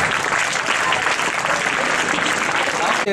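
Loud, sustained applause from a large crowd at a principal's farewell ceremony, continuous clapping close by with no break.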